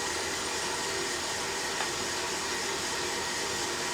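Steady broadband whoosh of the fan on an Aillio Bullet coffee roaster roasting a 1 kilo batch of beans, a constant close airflow roar with no talk over it.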